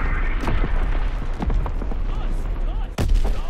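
Mortar rounds exploding in the World War II video game Call of Duty WW2, a run of sharp booming blasts at mid distance with one heavy burst near the end, over dense continuous battle noise.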